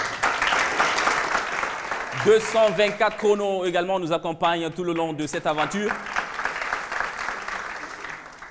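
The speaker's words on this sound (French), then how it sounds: "Également, merci de les applaudir." Audience applause for a French show's partners runs continuously at moderate level while someone speaks over it, with the clapping dominant before and after his words.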